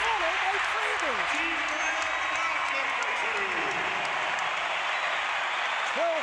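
Dense crowd roar fills a basketball arena during a 2019 NBA playoff game between the Houston Rockets and Utah Jazz, a steady loud wash of cheering and applause throughout, with a commentator's voice faintly heard over it.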